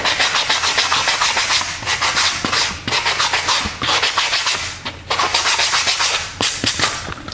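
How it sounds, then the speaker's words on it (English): Sanding block rubbing across the fuzzy edge of corrugated cardboard, a close, steady scratchy hiss in repeated strokes with brief pauses between passes. "sand away this fussy side like this"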